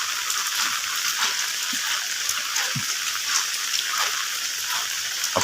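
Rain falls at night on a tin roof, a dense, steady hiss of drops pattering continuously with a few louder taps and no voices.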